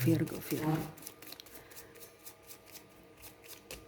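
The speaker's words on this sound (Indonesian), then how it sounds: "Kita kocok kartunya" Tarot cards shuffled by hand at close range, a brief burst of riffling and rustling near the start, followed by faint handling sounds in a quiet room.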